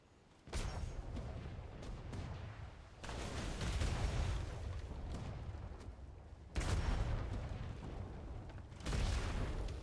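Cannon fire from pirate ships in a naval video game, repeated loud booming volleys with sharp onsets, each followed by a rolling rumble, several blasts over about ten seconds.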